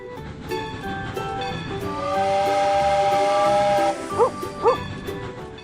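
A steam train whistle sounds in a children's animal-learning cartoon, a loud, sustained shrill tone over rhythmic chugging, followed by two short whistle toots.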